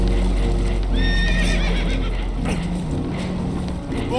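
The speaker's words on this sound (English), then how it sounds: "Horses are spooked" Spooked horses neigh in Red Dead Redemption 2, a loud whinny near the start followed by a second, over constant game ambience and clip-clop hooves.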